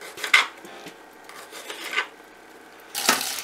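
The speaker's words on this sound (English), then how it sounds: "we're gonna cut up 2 cloves of garlic, and this is basically gonna go inside the fish. So chop them up." Knife chopping two garlic cloves on a board for stuffing a caught fish, heard as a few sharp scraping cuts spaced apart, with a louder burst of strokes near the end, moderately close and without talk.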